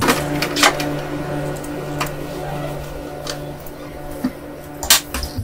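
A sewing machine stitches a cross pattern on an apron, giving a steady mechanical whir with sharp ticking clicks scattered through it, fairly close and continuous.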